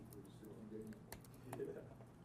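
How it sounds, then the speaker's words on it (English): Faint, sparse clicks of typing on a computer keyboard during accounting homework, scattered irregularly over a quiet background with soft voice sounds underneath. "I'm struggling on my typing today."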